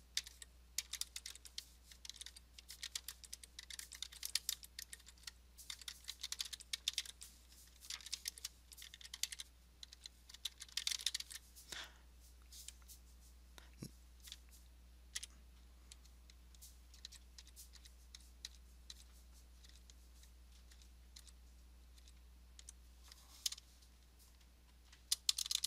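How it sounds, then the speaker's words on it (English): Keys clatter on a computer keyboard in quick irregular bursts, typing into Microsoft Word, with pauses between runs and a quiet background hum. "So now I can type out"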